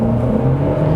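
Comparison SUV (Peugeot 3008, Honda CR-V or Chevrolet Equinox) launching hard in a 0-100 km/h test, its engine a loud, steady close drone with a rising whir and no talk.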